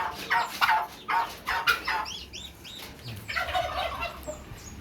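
Breeder turkeys gobble repeatedly in bursts, several birds calling close by over a noisy outdoor farm background.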